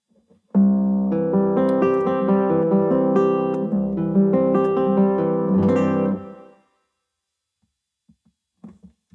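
An acoustic guitar picked up only by its internal microphone, with no effects or EQ, plays strummed chords for several seconds, dry and boxy in tone, then stops, followed by a few faint taps.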